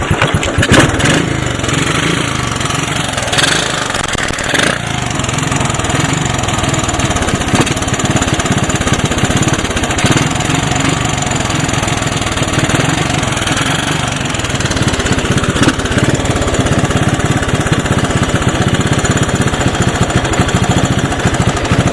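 A small gasoline engine, its clogged idle circuit just cleaned in the carburetor, runs steadily and loudly for the whole stretch with a constant rough drone and no voices.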